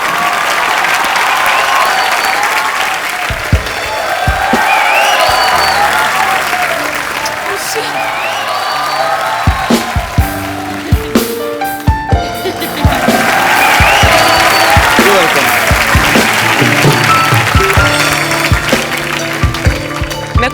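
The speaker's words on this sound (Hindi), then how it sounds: "एक बार रणबीर अनुष्का के लिए जोरदार तालियां।" Studio audience applause on a Hindi TV comedy show, a broad wash of clapping that swells and fades over about twenty seconds, with scattered sharp claps and voices talking and calling out through it.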